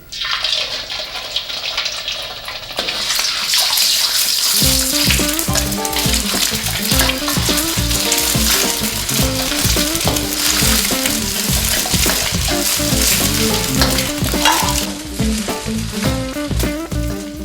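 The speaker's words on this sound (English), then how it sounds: "Now we're going to add 2 eggs and scramble them a bit." Two eggs hitting hot cooking oil in a pan over medium heat for Pad Thai, a loud close sizzle that erupts after a quieter start and keeps frying steadily with stirring scrapes.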